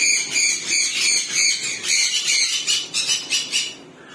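Shrill, repeated bird squawks in quick bursts inside an aviary during breeding season, fairly close and loud, with rapid calls tumbling over each other toward the end.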